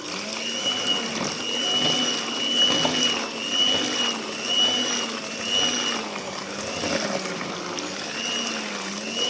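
Goat sour cream being churned into butter in a mixing bowl, a continuous whirring, sloshing churn with rhythmic swells in loudness, steady and close, with no talking over it.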